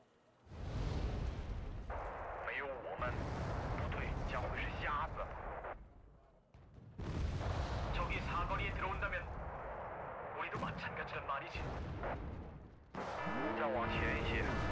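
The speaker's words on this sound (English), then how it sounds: "I actually moved so far forward that I moved into my own mortar fire" Booming mortar shell impacts and explosions from the strategy game Wargame: Red Dragon come in long, loud rumbling bursts with short quieter gaps between them, while someone talks over the blasts.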